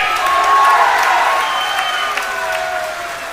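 Audience at a political rally applauding loudly and steadily, a dense wash of clapping with crowd noise throughout, close and sustained.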